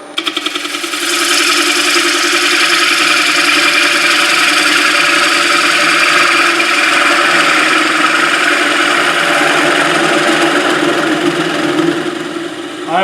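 A 3/8 bowl gouge with a ground-back corner rides the bevel across a spinning wooden bowl on a lathe, producing a loud, continuous whirring cut that holds steady for the whole stretch.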